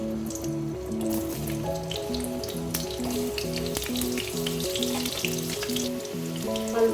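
Cut potatoes frying in hot oil in a kadai make a steady, close crackling sizzle. Faint, repeating tonal music plays underneath, and no one speaks.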